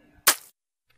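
A single sharp cartoon gunshot cracks out once, loud and abrupt, followed by silence.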